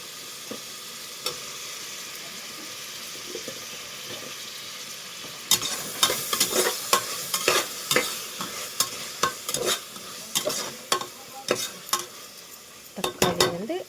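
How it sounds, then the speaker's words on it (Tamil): Tomatoes sautéing in a pan for mushroom biryani: a quiet steady sizzle at first, then loud, rhythmic spatula scrapes and knocks against the pan as they are stirred, close up and without speech. "தக்காளி வந்து ஆட் பண்ணியாச்சு. தக்காளி வதங்கட்டும்."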